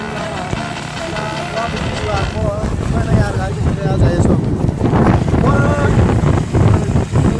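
Motorcycle ride through light rain on the way to Bhutan, with steady wind buffeting the microphone and a continuous rushing roar throughout, while a voice talks over it.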